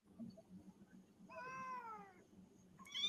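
A pet cat gives a clear drawn-out meow in the middle, then begins another rising meow at the end, heard close over a low background murmur.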